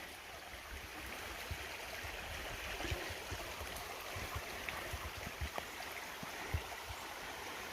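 Sawmill Creek flowing beneath a trail bridge on the Superior Hiking Trail, a steady broad rush of water with small splashes and gurgles, continuous and fairly close.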